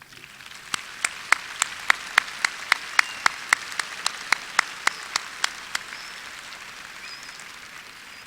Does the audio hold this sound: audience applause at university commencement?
yes